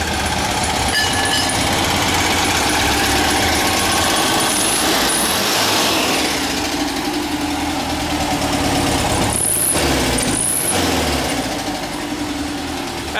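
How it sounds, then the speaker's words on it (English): A 1959 Volkswagen single cab's air-cooled engine idles through a baffled exhaust, a loud, steady, slightly pinging drone that holds close throughout with only minor shifts in tone. "that gives you that VW sound. That little bit of like a ping ping to it."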